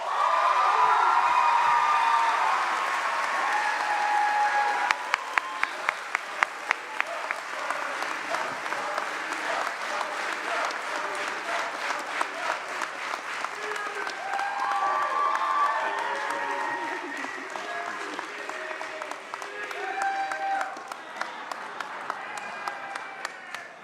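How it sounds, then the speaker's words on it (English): Sustained applause from a graduation ceremony crowd for award winner Dr. Murillo, a long bed of clapping with some individual sharp claps near the front, scattered cheers and background voices. "let's give a round of applause to our award winner, the one and only Dr."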